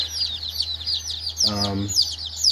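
Young chicks in a brooder setup, producing high, repeated chirping peeps throughout, with a short lower clucking call from one bird partway through, close and moderately loud.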